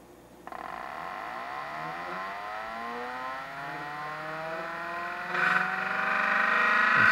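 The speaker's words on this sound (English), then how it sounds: "Start the motor going." Small electric motor on an Arduino Hall effect test rig, powered from a bench supply, starts with a sudden click and whines steadily upward in pitch, a rising whir close by with no talk.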